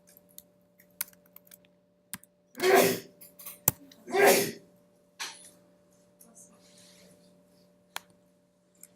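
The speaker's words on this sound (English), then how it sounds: "I'm not going to stop sneezing until somebody says bless you" Two loud, close sneezes burst out about a second and a half apart in an otherwise quiet room, with scattered faint keyboard clicks and taps around them.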